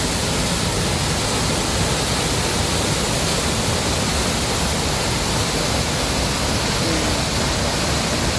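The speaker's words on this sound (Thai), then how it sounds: "สวยงามมากเลยนะฮะน้ำตกครับ" Huai Chang waterfall near Pai, a constant loud roar of falling water, broadband and unbroken, with no voices.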